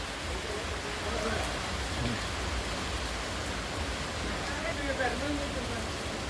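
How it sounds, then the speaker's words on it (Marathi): Steady broadband hiss of rain falling outdoors during a monsoon shower, continuous and fairly loud throughout with no clear individual drops. "पाऊस कुठे जास्त पडायला लागलाय एवढंच दोन थेंब पडतोय"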